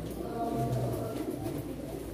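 Pigeon cooing at a bird auction, a soft low coo standing out briefly amid steady room murmur and background voices.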